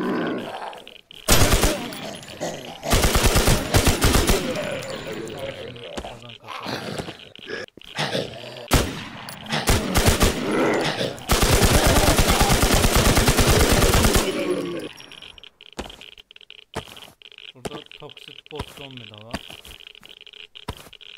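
Gunfire in the zombie survival game Infestation The New Z, with long dense bursts of loud automatic fire broken by short pauses and single shots, then quieter clicks and game sounds at the end.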